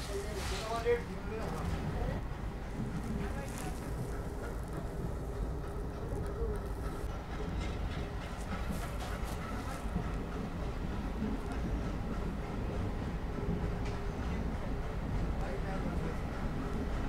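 ALCO diesel locomotive hauling the 14729 Rewari–Fazilka passenger train as it departs Rewari Junction on a foggy dark morning, giving a steady loud engine rumble with rolling rail noise and wind buffeting throughout, heard close from onboard behind the engine.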